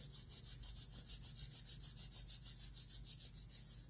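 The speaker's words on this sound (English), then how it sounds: "rub your hands together" Palms rubbing together briskly in a quiet setting, a steady rhythmic swishing of skin on skin repeating about four times per second, close and alone with no talk.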